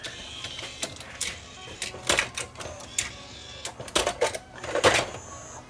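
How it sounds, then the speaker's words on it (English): A Pioneer CLD-M90 laserdisc and CD changer loads a disc with a run of mechanical clicks, clunks and whirring bursts, close and moderately loud, in uneven rhythm with short pauses between movements. "It sucks the disc in and drops it down."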